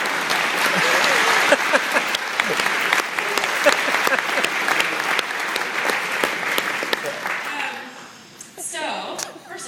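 Mourners at a celebration-of-life memorial service clapping in sustained applause with a little chuckling mixed in, dense and close before tapering off near the end.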